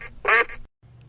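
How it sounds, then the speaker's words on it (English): A duck gives a single loud, nasal quack, close and clear, followed by a brief silence and faint background. "What sound does a duck make?"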